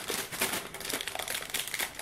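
A plastic bag holding parts of a MiniArt T-44 tank model kit rustles and crinkles softly and continuously at close range, with no talking.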